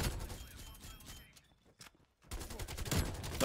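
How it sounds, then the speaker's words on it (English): Rapid gunfire bursts in the video game Call of Duty Black Ops Cold War, loud rattling volleys that drop out briefly mid-clip before another burst resumes. "I'm shooting so many bullets and not getting kills."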